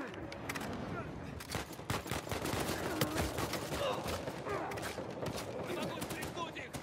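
Rapid game gunfire from an Uncharted 4 multiplayer match, with dense overlapping bursts and single shots crackling loudly throughout while players talk over the shooting.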